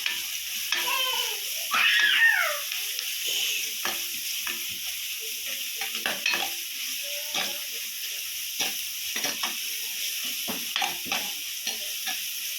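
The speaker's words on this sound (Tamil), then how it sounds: "தேவையான மல்லி இலை, தேவையான புதினா இலை நல்லா வதக்கி விட்டுக்கரலாம்." Coriander and mint leaves are sautéed for chicken kulambu, a soft steady sizzle in a pan with repeated scraping stirs of a spoon, close and continuous.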